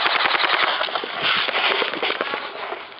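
Airsoft guns, including a PulseR72, an M203 shotgun and an M83 Double Eagle, fire rapid, dense volleys of sharp pops during an outdoor free-for-all game, loud and continuous with no gaps.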